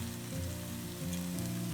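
Brinjal bharta with finely chopped coriander and green chilies sizzles on a low flame, giving a steady, close frying hiss that runs without pause.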